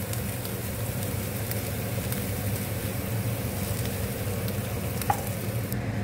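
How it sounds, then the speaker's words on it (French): Tuna and three eggs cook in a pan, a steady, even sizzle running throughout with a brief faint clink near the end and no talk. "je fais cuire du thon, ici, que je vais cuire avec mes œufs"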